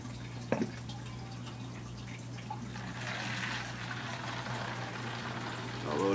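Hot water pours from one plastic bottle into another, a steady faint trickling and splashing that swells slightly midway, with a low background hum throughout.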